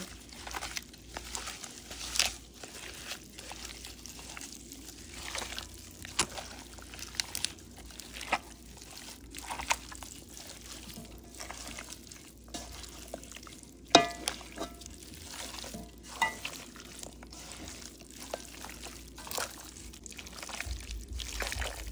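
Beef being mixed by hand with oil, giving repeated wet squelches and slippery smacks in an irregular rhythm, close and fairly quiet.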